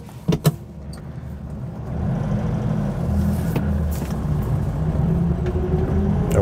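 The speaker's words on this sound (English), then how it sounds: "Away we go, a fair bit of transmission noise" A Vauxhall Viva HA saloon pulls away in first gear, its engine note rising steadily from a low rumble with a noticeable whine from the transmission, heard close from inside the car after a couple of short clicks.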